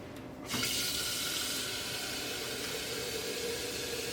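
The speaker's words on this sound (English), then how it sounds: "So I'm just going to add some water," Water runs steadily from a tap into a container holding a sweet potato, a close, continuous hiss and splash that jumps louder after the first half second and keeps going.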